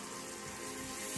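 Steady, close sizzling of onions frying in a hot pan, a continuous crackling hiss with no talking.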